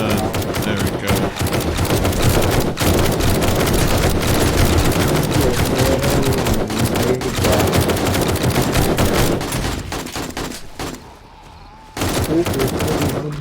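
Rapid bursts of automatic gunfire in the zombie survival game 7 Days to Die at the farm, loud and nearly continuous with a short lull near the end before firing resumes, a voice faintly under the shots.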